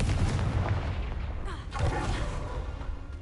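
A Confringo fire spell from Hogwarts Legacy blasts in a cave, a booming burst with a whooshing rush midway, heavy low rumble throughout, fairly close and loud.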